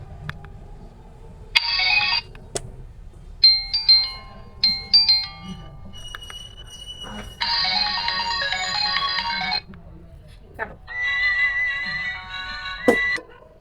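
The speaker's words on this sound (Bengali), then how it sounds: "আমরা একটু শুনবো যে এই ফোনটির রিংটোনের সাউন্ড কেমন" A Symphony BL52 mobile phone plays a series of ringtones, bright electronic melodies and chiming tones in separate bursts with short pauses between, loud and close.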